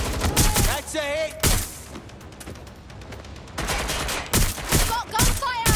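Gunfire in the Watch Dogs Legion video game, several loud bursts of shots at the start and again near the end, with a quieter stretch of game ambience between.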